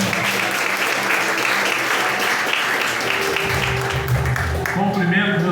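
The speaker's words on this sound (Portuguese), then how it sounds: "A igreja recebe nosso irmão com palmas" A church congregation applauds during an evening worship service, steady dense clapping filling the room throughout, with voices mixed into the crowd noise.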